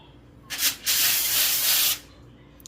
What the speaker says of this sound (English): I'm going to coat this with some of my avocado spray